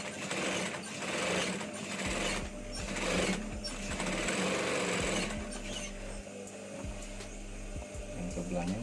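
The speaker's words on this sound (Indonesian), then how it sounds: "Kita jahit ke sebelah atas, sedikit kecil aja jahitannya ya." A sewing machine runs steadily, stitching a small seam along the upper edge of a joined piece, with a continuous close motor whir and rhythmic needle clatter from start to finish.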